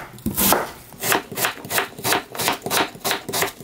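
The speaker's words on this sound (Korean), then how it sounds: "저는 이렇게 납작하게 썰겠습니다" Knife slicing radish into flat pieces on a cutting board, about eight steady rhythmic chops close up, no talk.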